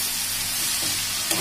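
Tomatoes sizzling in a large, deep kadhai while fried rice is being cooked: a loud, continuous hiss of frying that fills the whole short stretch, heard close up.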